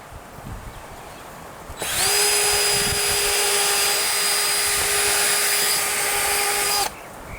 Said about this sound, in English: Then you're going to drill pilot holes from this way that will go through your little bracer piece here